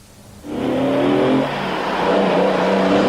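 An early-1970s Lamborghini Espada GT car engine starts up and revs, rising sharply to a loud, close roar that holds with throttle swells for several seconds.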